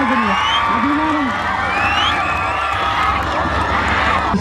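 An audience at a film director's speech event cheers, whoops and shouts in a loud, continuous crowd roar. High whistle-like calls rise above the dense crowd noise throughout.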